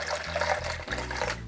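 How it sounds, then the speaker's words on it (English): Water poured into a jar of bicarbonate soda while a paste is mixed for cleaning a cooker, heard as a close, continuous splashing trickle with small gurgles, alone without talk. "Then we are required to add some water inside."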